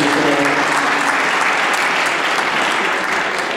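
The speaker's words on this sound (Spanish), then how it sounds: "Demos otra vez un fuerte aplauso a la Universidad." An audience at a conference breaks into loud, sustained applause, a dense wash of many hands clapping close by, with a voice briefly underneath at the start.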